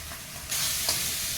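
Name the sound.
frying onion, garlic and ginger with spices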